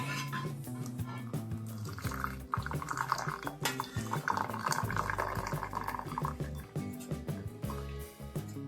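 Boiled tulsi leaf water poured through a strainer, making a close, steady trickle and splash of liquid with irregular dripping that rises and falls over several seconds.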